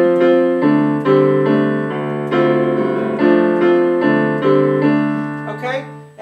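Piano playing the chord riff, sustained block chords changing every second or so in a steady rhythm, close and fairly loud, with no talking.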